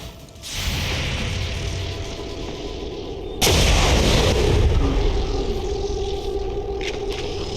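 A video game weapon fires with a heavy, booming artillery-like blast that cuts in abruptly, followed by a sustained roaring rumble and mechanical whoosh that fades slowly, loud and close with no talk.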